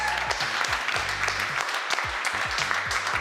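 Audience applause and cheering at an award ceremony, a dense steady wash of clapping throughout, fairly close.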